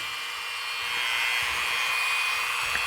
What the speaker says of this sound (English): Okay, so I've got the Dremel on.